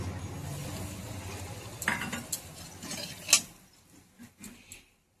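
Asafoetida and whole spices (dried chilli, bay leaf, five-spice) sizzle in hot oil, a soft crackle with a few sharp clinks of stirring that fade to near silence at the end.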